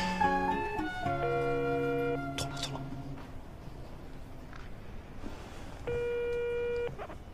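A telephone call tone plays for a number that is switched off. Steady beeps and a short tone pattern sound alone in a quiet room, with a second burst of the tone toward the end.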